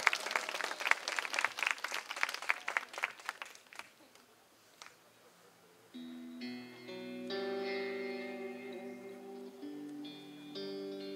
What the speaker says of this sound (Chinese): 再一次给我们的耳闻掌声鼓励